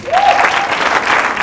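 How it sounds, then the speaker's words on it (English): An audience clapping again for a guest at a talk show, loud and close, a dense burst of applause with a brief whoop near the start and continuous clapping throughout. "Clap for her again"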